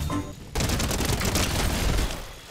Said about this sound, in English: the charge SMG shreds